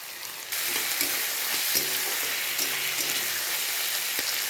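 Onion, capsicum, chopped chili and tomato frying in a pan: a loud, continuous close sizzle with occasional light clinks and scrapes of stirring.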